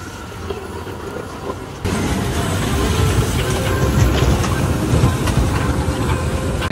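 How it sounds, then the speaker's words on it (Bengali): An amusement park ride train at Magic Island Park in Keraniganj rumbles along with a steady mechanical clatter that steps up louder partway through, close and continuous with no talking. "এই হচ্ছে গাইস ট্রেন"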